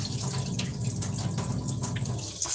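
Jasmine rice being rinsed under a running kitchen tap, a steady, close, unbroken rush of water that fills the whole stretch with no voices.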